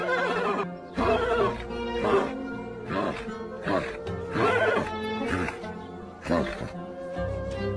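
A distressed horse neighs and whinnies repeatedly in loud, shrill bursts, close and agitated, with brief pauses between calls and a voice talking underneath.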